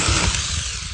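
A battery-powered 24-volt chainsaw runs close by, its motor a steady buzzing whine that holds without a break for the whole second.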